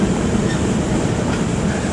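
A Georgetown Loop Railroad passenger train, pulled by diesel engine 1203, rolls down a mountain grade on a curve, making a loud, steady rumble of wheels on rails with a faint rhythmic clatter and no voices.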